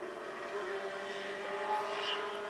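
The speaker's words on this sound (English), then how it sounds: "It is actually a motorcycle." A motorcycle passes outside, a loud, steady engine drone with a strong buzzing tone that swells slightly and holds for the whole stretch, with no talk over it.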